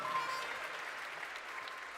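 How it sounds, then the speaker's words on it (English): Applause from an audience in the main theatre at PAX West 2021, a soft, even wash of clapping heard from a distance, faint and continuous. "So a round of applause for them"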